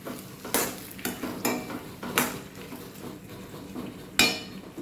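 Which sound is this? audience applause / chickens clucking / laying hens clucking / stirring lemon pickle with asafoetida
stirring lemon pickle with asafoetida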